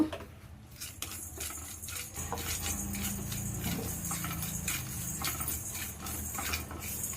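Black pepper and cumin being dry-roasted in a pan: continuous rattling and scraping of a metal spoon against the pan as the seeds are stirred, close and fairly steady.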